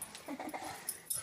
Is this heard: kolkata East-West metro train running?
no